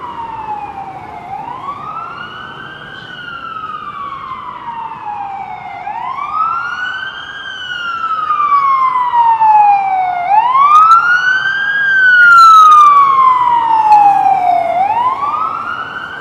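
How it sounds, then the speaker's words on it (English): Emergency vehicle sirens wail in downtown Toronto streets, loud and close, with long rising and falling sweeps that overlap as more than one siren sounds over steady traffic rumble. "It is non-stop sirens here downtown today."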